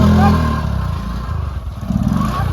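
A motorcycle engine starting and running close by, a rough low rumble with uneven pulses that holds steady and picks up slightly near the end.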